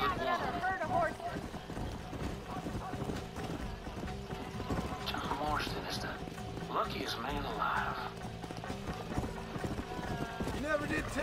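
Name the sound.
herd of horses galloping, from a video game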